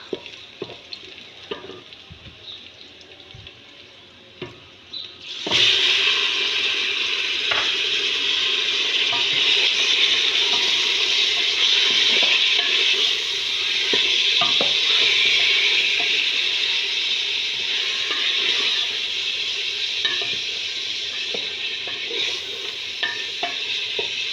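Lamb hitting a hot pan with garlic and onion, quiet stirring first, then a sudden loud, steady sizzle of frying that holds strong and continuous to the end.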